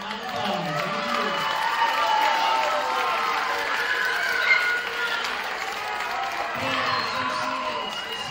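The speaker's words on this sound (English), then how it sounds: "let's give a warm round of applause" Auditorium audience applause at a school athletics ceremony, a continuous wash of clapping with scattered cheers, a voice speaking over it near the start and end.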